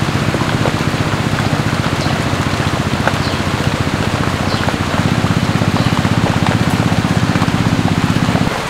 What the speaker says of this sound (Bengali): রান্নার মাঝখানে খুব জোরে বৃষ্টি এসেছিল